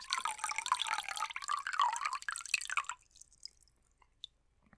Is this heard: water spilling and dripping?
yes